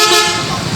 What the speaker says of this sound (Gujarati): હોર્ન વાગી રહ્યા છે